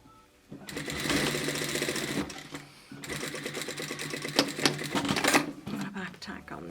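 A sewing machine stitches a woven-fabric button hairband in two steady runs of rapid mechanical whirring, close and loud, with a short pause between them and a voice talking over it.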